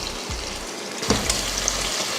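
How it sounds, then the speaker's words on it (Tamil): Tomatoes sauté in a pan for one-pot rice, giving a loud, continuous sizzle with a brief scrape of stirring just past the midpoint. No voices are heard. "தக்காளியவும் நல்லா வதக்கிடலாம்."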